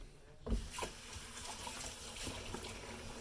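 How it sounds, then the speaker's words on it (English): Hands being washed under a running kitchen tap while pork chops are prepared, a steady broadband rush of water with soft splashes and a brief louder splash near the start, fairly close and alone. "As you can hear, I'm washing my hands."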